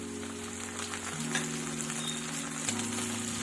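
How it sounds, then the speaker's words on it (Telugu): Tomato dropped into an amaranth leaf fry sizzling steadily in a pan, with a continuous crackling hiss and no talk. "ఇప్పుడు ఇందులో టమాటా వేస్తున్నాను"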